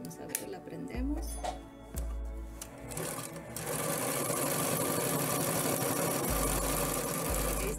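A Singer sewing machine stitches fabric with a rapid mechanical chatter, first starting and stopping in short bursts and then running steadily, while people talk nearby.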